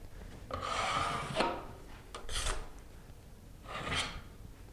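A steel trowel spreads drywall mud over a butt joint in soft, scraping strokes, three rasping passes close by and fairly quiet, with brief pauses between them.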